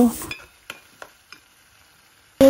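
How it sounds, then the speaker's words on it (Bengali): Turmeric curry cooking over medium heat, with a few sharp spoon clinks and stirring taps spaced across a quiet stretch, framed by brief louder bursts of kitchen noise at each end. "এই জন্য আমি মিডিয়াম আঁচে কিছুক্ষণ রান্না করে নিব"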